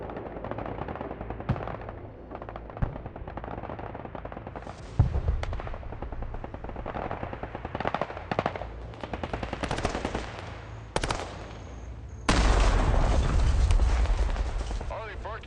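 Machine-gun bursts and heavy gunfire in the military strategy game Broken Arrow, with repeated loud volleys and explosive blasts, the densest barrage near the end, while game voices talk over the battle.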